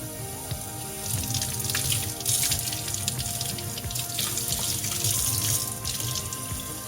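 Tap water runs steadily into a sink while a glass cup is rinsed of soap, with a continuous close splashing flow and light shifting as the cup moves under the stream.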